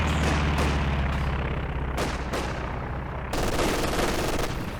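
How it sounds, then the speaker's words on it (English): Continuous machine gun fire in the Company of Heroes 2 strategy game, loud sustained rattling bursts with several sharper cracks and booms layered over a dense battle din throughout. "the machine gun shoving them down"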